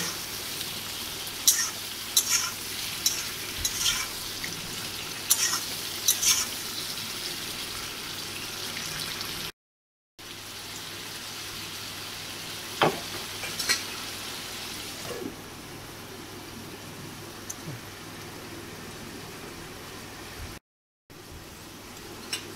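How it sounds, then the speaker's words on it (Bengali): Turmeric- and salt-coated long prawns frying in a pan, a steady broad sizzle running throughout with occasional sharper crackles and taps, close and moderately loud, briefly cut twice, no talking. "আমি এখন ভালো করে চিংড়ি মাছটা ভেজে নেব।"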